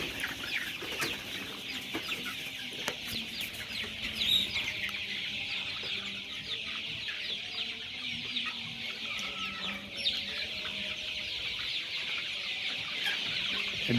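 A dense chorus of poultry clucking and chirping at a farm in Noakhali, Bangladesh, a steady crowded chatter of many birds close by, with no talking.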